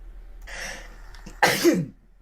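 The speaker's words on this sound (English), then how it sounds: "Pov, you sneeze in the UK." A sharp, close sneeze bursts out after a brief breathy intake, then trails off into quiet.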